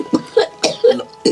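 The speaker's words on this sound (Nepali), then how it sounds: "आमाले चुरोट तानिराख्नु भएको रहेछ त्यही भएर एक्कासी यसरी खोक्नु भएको" A mother caught by a sudden coughing fit after smoking cigarettes: about five harsh, close coughs in quick succession.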